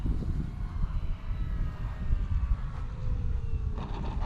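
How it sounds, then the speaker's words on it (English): FMS Ranger 1800mm RC propeller plane coming in to land on a gusty day, its engine drone steady and moderately near under heavy wind buffeting on the microphone. "I'm now landing from looking at the plane from this way."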